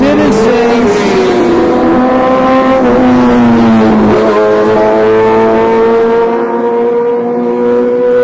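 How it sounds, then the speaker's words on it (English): Motorcycles pass by very loud and close, with sustained engine roar and pitch sweeps as they rev and shift, steady throughout before thinning toward the end. "it's really loud with those motorcycles"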